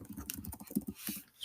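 Quick, uneven keystrokes on a computer keyboard, close and fairly quiet, tapping in short bursts with small pauses.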